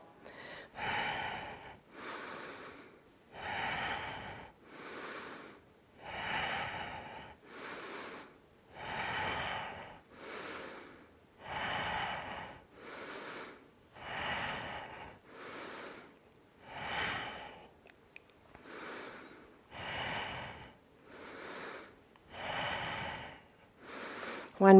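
Steady, audible breathing from someone exercising through a yoga strength workout, each breath a breathy rush in and out, repeating at an even pace for about twenty-five seconds, close to the microphone.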